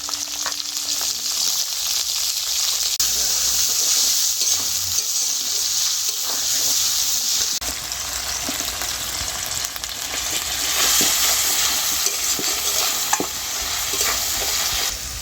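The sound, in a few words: ginger cumin paste and chopped tomato frying in oil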